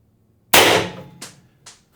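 A single sharp airsoft shot from an IntruBuster Gen 2 with an X-68 internal setup and MCS 4.5-inch .686 barrel, loud and close, followed by a ringing decay and two fainter impacts.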